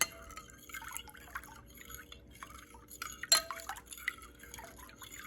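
A spoon clinks lightly against a glass while Kool-Aid dye and water swirl, with scattered small taps and one sharper clink partway through, quiet and close.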